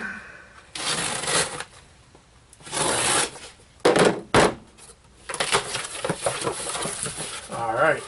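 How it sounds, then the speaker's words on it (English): A self-retracting Snap-on utility knife slices open a package, giving bursts of close scraping and tearing cardboard and tape with rustling and handling in between, plus a couple of sharp knocks. "to open it I have to use my Snap-on utility knife"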